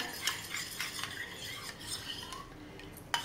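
A spoon stirs a cornflour mixture in a bowl for basundi, making soft, quiet scraping and light clinks in an irregular rhythm, close by, with one sharper tap near the end.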